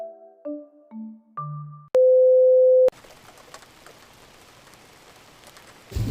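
Steady rain falls in Hội An, a dense even hiss that continues for several seconds. It follows a short run of electronic tones and a long beep.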